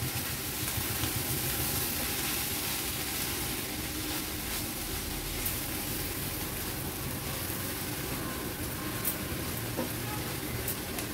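Dried shrimp is stirred with spring onions in a pan over a low-to-medium gas flame. A soft, steady sizzle runs throughout with faint scraping stirs, quiet and close, and no talking.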